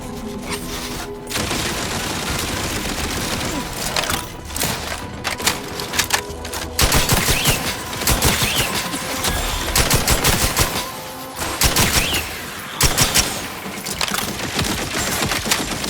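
Sustained gunfire in the game The Outer Worlds 2: loud, rapid automatic bursts and shots cluttered together, with brief pauses between volleys and no talk.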